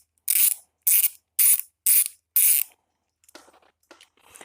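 A socket wrench ratchets in five quick, evenly spaced bursts, close and crisp, loosening the 6 mm bolts on the plastic carburetor bowl of a Craftsman 550 PSI pressure washer, followed by quieter rattles and clinks as parts are handled.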